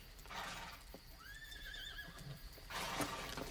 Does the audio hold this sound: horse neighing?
yes